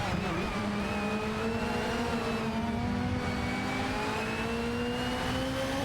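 Racing cars in a video game, a Nissan Primera and a Peugeot 406 battling for position, their engines droning steadily with a sustained rising tone and gradual revving, loud and continuous with no talk.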